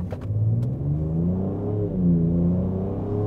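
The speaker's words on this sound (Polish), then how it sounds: "Teraz włączyłem sportowy ten wydech." A Ford Ranger Raptor pickup with a V6 and its sport exhaust mode on pulls away from a red light, its engine note rising steadily as it revs up through the gears, loud and close.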